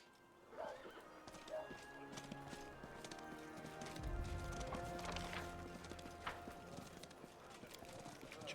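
A horse's hooves clip-clop and it whinnies briefly in the fantasy role-playing game Pathfinder: Wrath of the Righteous, the game sound fairly quiet under steady background music and ambience.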